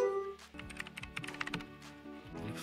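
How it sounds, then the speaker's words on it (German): Quick, uneven clatter of keys on a computer keyboard during a LAN gaming session, a close run of rapid taps with short pauses, steady and fairly quiet with no one talking. "ich kann nicht schreiben mit der Tastatur"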